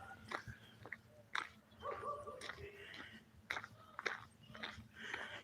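A dog barks and whimpers outdoors in short, sharp bursts with thin whines between them, fairly close and uneven in rhythm.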